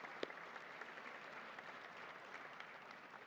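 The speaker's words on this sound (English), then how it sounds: "a big round of applause to all of them." An audience gives a steady round of applause at a Sikh Heritage Month celebration, dense clapping at an even, moderate level with one sharp clap standing out near the start.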